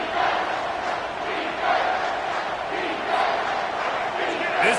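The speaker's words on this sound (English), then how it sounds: "with this place rocking, the crowd forces a false start" A packed stadium crowd at a Nebraska vs Ohio State football game roars steadily and loudly, a dense wall of cheering that swells in waves without letting up.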